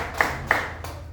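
A few sharp hand claps ring out in a church teaching setting: two distinct claps in quick succession, then a softer third, moderately close.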